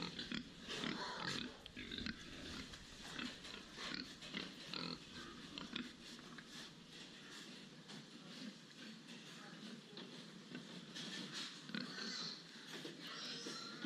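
Hogs housed on a livestock farm with around 14,000 animals on site, giving a continuous noisy din of grunts and squeals over steady barn machinery hum, fairly loud throughout.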